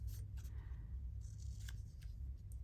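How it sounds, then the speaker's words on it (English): Scissors cutting out paper samples for a collage page, quiet close snips and rustles in a few short bursts over a low room hum, no talking. "Let's just cut this out and see."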